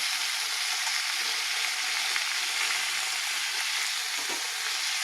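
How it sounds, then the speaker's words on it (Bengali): Chicken sizzling in a pan, an even, continuous bright hiss of hot oil held at a steady level, with no one speaking. "চিকেনটা একটু ভাজা ভাজা হোক"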